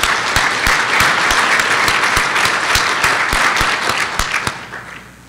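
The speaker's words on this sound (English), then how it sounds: "So let's give her another round of applause." Audience applause at a Step Up AZ 2018 summit, a loud, sustained wash of many hands clapping with crisp individual claps on top, gradually fading out over the final second.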